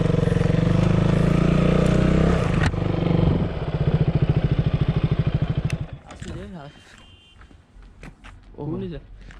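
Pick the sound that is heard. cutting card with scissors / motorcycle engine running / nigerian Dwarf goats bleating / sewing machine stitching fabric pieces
motorcycle engine running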